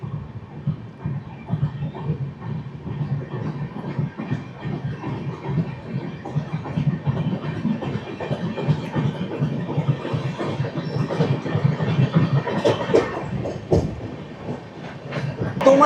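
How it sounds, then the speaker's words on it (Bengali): The Tatanagar–Howrah Steel Express pulls out of Chakulia station, heard from inside the coach as a continuous low rumble with rhythmic wheel clatter that builds gradually as the train gathers speed. "চাকুলিয়াতে দু মিনিট দাঁড়িয়ে আমাদের ট্রেন ছেড়ে দিল পরবর্তী স্টেশনের উদ্দেশ্যে"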